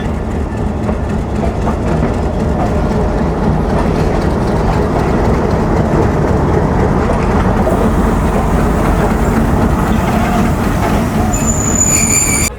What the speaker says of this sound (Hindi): ये कुछ इन्वायरमेंट है इस वक्त फैसलाबाद रेलवे स्टेशन पर